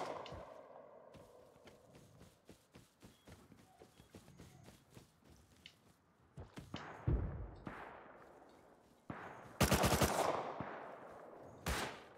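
Gunfire in the survival video game Rust: rapid bursts and scattered single shots, starting faint and building to loud, sharp clusters near the end, with no talk over them.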